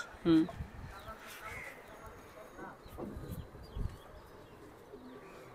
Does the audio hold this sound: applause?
no